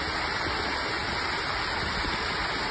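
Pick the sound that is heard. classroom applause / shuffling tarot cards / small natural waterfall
small natural waterfall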